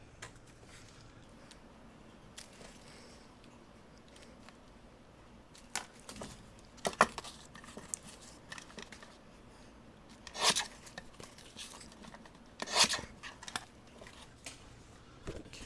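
A scrap of greeting card backing is trimmed down into a tag, giving a few quiet, sharp snipping and rustling sounds spaced out over an otherwise hushed room.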